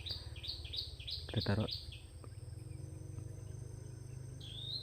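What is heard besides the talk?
wild birds calling outdoors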